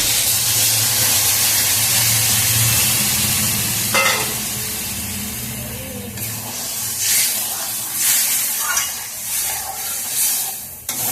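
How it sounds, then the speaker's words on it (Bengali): Prawn malai curry bubbles in a pan, a continuous steamy hiss and sizzle with occasional sharper spits and stirring sounds, fairly loud and close. "দেখুন কত সুন্দর ফুটছে।"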